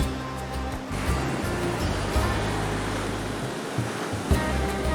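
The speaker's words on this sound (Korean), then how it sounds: "해가 지면서 파도가 거세지는데요." Rough Indian Ocean waves surge at sunset around South Indian fishermen hauling a net from their boat, a steady loud roar of surf with occasional heavier swells.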